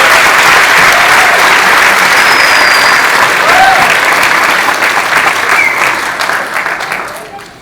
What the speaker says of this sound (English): So, big round of applause to all of you.